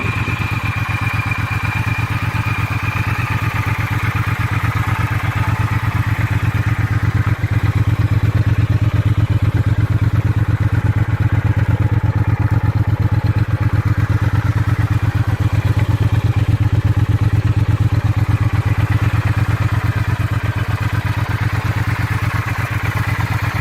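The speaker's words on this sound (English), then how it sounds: "Triumph Bonneville T120, first introduced in 1959, became the gold standard for performance and style in the early 60s." A 1962 Triumph Bonneville T120 motorcycle engine runs at a steady, loud idle with a low, continuous throb and faint mechanical clatter, holding even for the whole stretch with no voices.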